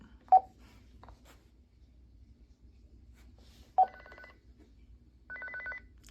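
A two-way radio call alert rings like a phone, with short electronic tones and trilling beeps in a few separate bursts over a quiet background.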